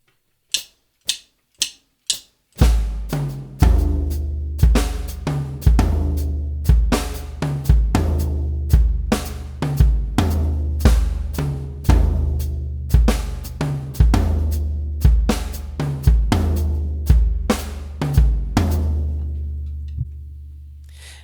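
Solo drum kit playing an exercise: a few sharp count-in clicks, then a steady busy groove of tight snare and hi-hat strokes over punchy kick, close and loud throughout.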